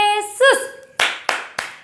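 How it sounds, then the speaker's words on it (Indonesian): Children at a church kids' service clap their hands after a short sung chant, giving three sharp, evenly spaced claps close by. "Tepuk Yesus."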